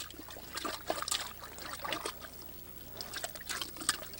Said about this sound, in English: throw a little water in it.